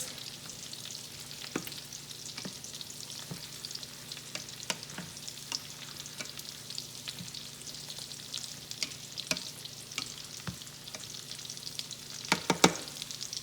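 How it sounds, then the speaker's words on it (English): Okra, sausage and tomato sizzle and simmer in a pan, a soft steady crackle broken by scraping clicks as a spoon stirs, with a brief clatter of utensils near the end; nobody speaks. "I'm gonna go ahead and stir that around and let that simmer for a little bit."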